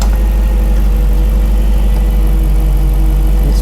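An SRT car engine idles with a noisy power steering pump, a steady, loud, droning hum with a constant low whine and no change in pitch.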